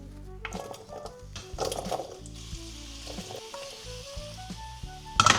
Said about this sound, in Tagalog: Piprito muna natin yung carrots and potatoes.